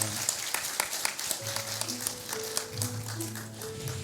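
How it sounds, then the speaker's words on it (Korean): A congregation applauds during a Sunday service in a Korean church in Jeonju, a busy patter of many hands clapping under sustained tones and some voices. "주님께 영광의 박수 올려드립니다."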